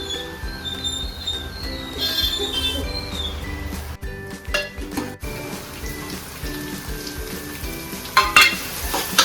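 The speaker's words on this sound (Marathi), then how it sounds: "आता कांदा घालून घेतो आपण थोडा लसूण घालून घेऊ" Onion and garlic sizzle and fry steadily in a pan as the base for a crab curry, a dense continuous crackle with a brief dip in the middle and a few sharper bursts near the end.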